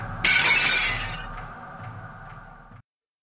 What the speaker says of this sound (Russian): пойду разобью последнюю картину